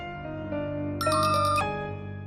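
A phone's electronic ringtone plays a sustained melodic chime, rising into a brighter repeated trill partway through, clear and close with no talking.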